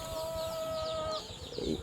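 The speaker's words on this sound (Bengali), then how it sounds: "এই যে মুরগিগুলো এগুলাই ডিম পাড়ে" Layer hens on a poultry farm, with a sustained tonal call from one bird and then a short burst of clucking near the end, close and moderately loud against a steady farm background.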